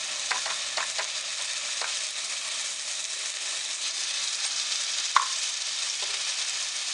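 Ginger, garlic and green chilli paste fries in hot oil for a Maharashtrian Aagri mutton kheema, a soft, even hiss of sizzling with a few light spoon taps, no voices.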